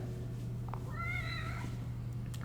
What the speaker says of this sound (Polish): O, kotek